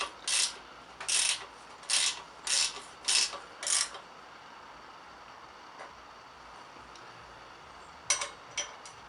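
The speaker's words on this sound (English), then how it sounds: "I'm going to go get the torque wrench" A torque wrench ratchets in short bursts while tightening a wheel on a 1987 Honda CR250 motorcycle: six quick clicking runs in a steady rhythm, a pause, then two more brief bursts, close and fairly quiet.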